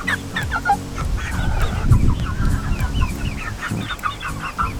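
Hens cluck and murmur continuously, close by, several birds overlapping in short, repeated calls over a busy background.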